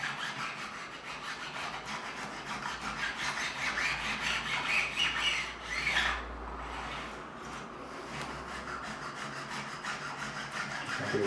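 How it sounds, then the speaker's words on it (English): A file rasping along the binding of a Gibson Les Paul Custom guitar, soft repeated scraping strokes close by at a low level with small pauses between passes. "as I'm filing, I'll bring it back up just to make sure we're getting that any bits overhanging off there"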